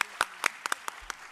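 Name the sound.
audience applause for a dance performance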